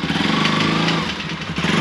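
A motorcycle engine runs close and loud with a steady, throbbing mid-range drone and a slight dip in pitch partway through. It continues without a break, and no voices can be heard over it.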